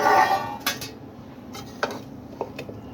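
A lid is lifted off a pot of basanti pulao made with home-grown rice, giving a few sharp metallic clinks and clatters of cookware that stand out against a quiet kitchen background.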